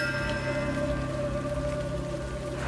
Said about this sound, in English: A rain of strange white fluid interrupts the morning commute across Washington State and Oregon